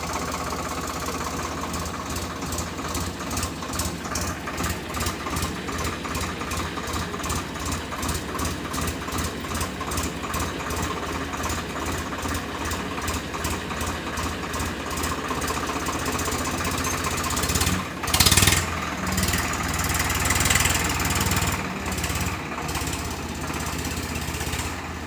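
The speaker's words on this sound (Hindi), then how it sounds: "भाई लोग देखिए नागड़ा नया ट्रैक्टर खरीदा" A new tractor's engine idles close by with a steady, rhythmic diesel chug and knock that runs for about twenty-five seconds, briefly swelling louder near the end before settling back to its even beat.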